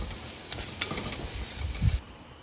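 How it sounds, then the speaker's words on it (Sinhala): Ambarella curry ingredients, with green chillies, frying in a pan while being stirred, giving a soft steady sizzle with brief scraping bursts of the spoon, close and fairly quiet, then settling at the end. "මෙන්න මේ ගන්නට පාට වෙනස් වෙනකල් බැදගෙන ඔක්කොම ටික ආයමත් මිශ්‍ර කරගන්න."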